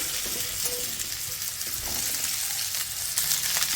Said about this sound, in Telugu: ఈ బెండకాయ ముక్కల్ని కలుపుకుంటూ ఫ్రై చేసేసుకోవాలి